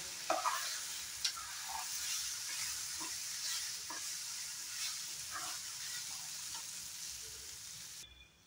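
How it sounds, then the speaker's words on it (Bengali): Potato masala being stirred in a pan gives a steady, close sizzle broken by intermittent scraping strokes of the spoon, with no talking. "এখন কিছু সময় সুন্দরভাবে আলু মশলাটা রান্না করে নেব।"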